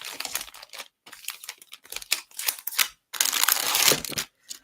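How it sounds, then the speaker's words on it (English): Plastic packaging of a Spellbinders craft die being handled, a series of close, bursty crinkles and crunches that stop briefly between handlings, with no talking. "Sorry for the crinkling."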